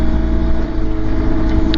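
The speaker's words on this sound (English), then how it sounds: "The boxer engine is slightly different." A BMW R1250 GS motorcycle, a 2023 model, with its boxer engine running steadily while riding on a commute, a continuous close, loud engine drone with wind rumble and no voices.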